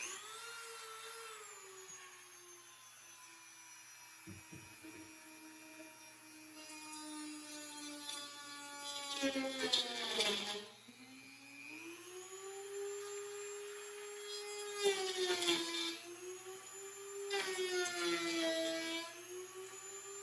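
A power tool running at low speed trims the wooden headstock of an LP-style guitar, its whine rising and falling as it cuts in slow, delicate passes with brief louder bursts.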